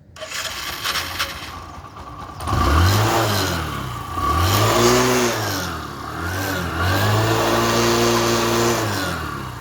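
A motorcycle with a self-start motor cranks and catches, then revs in several rising and falling surges, loud and close, with no voices.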